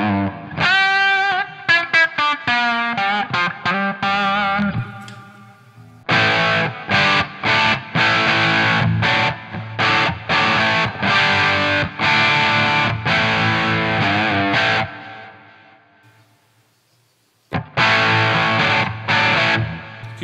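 Gibson 335 electric guitar with a Burstbucker pickup played through a Volta 1987 with extra drive: loud, crunchy distorted notes and then chopped rhythmic chords, with brief pauses and a gap near the end before the chords return.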